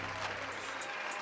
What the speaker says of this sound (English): That's the long applause.